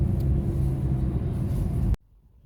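A car's engine rumbles steadily at low pitch while driving, fairly loud and continuous for about two seconds before cutting off abruptly into near silence.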